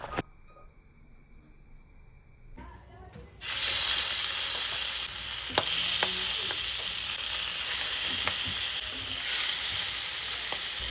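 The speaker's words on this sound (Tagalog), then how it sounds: "At prituhin lang natin ang bangus ng bahagya." Milkfish (bangus) dropped into hot cooking oil in a pan, starting with quiet kitchen ambience and then bursting into a loud, steady, close sizzle with occasional pops and crackles that continues to the end.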